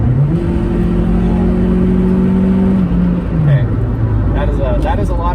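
Suzuki Aerio AWD hatchback engine revving hard under throttle with an automatic transmission, a loud, steady droning rise in pitch that holds for about three seconds, then drops away as the throttle eases, with someone talking over it.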